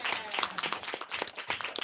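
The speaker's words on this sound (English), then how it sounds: "I think we need to give everyone a big round of applause." An audience at a stop-motion animation film festival gives a dense, continuous round of applause, moderately loud and filling the room.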